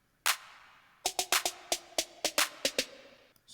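A layered clap and snare drum hit in a sparse trap-style beat, sharp crisp transients landing one after another with a short pause after the first, close and dry with no voices.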